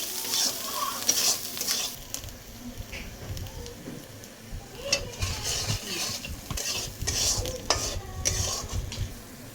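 Spices with turmeric powder and salt being stir-fried in a pan, loud sizzling under repeated scraping and stirring strokes, close and busy throughout.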